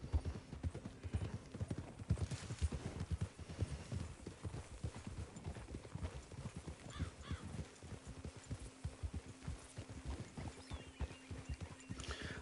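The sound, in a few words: horse hooves clip-clopping, from a video game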